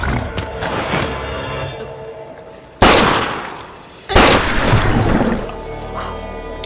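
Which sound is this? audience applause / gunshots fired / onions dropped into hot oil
gunshots fired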